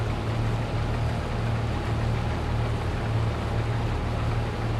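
A combine harvester engine in the Farming Simulator 22 video game, working a soybean harvest, gives a steady, loud, low droning hum that holds even throughout with no talking.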